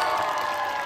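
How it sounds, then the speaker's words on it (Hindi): A crowd claps and cheers at an IIM Kashipur college festival event, a brief, continuous wash of applause and voices at a steady level. "ताली के साथ में इन्वाइट करेंगे"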